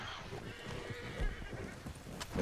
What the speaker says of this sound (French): Mettre le cheval un peu plus loin.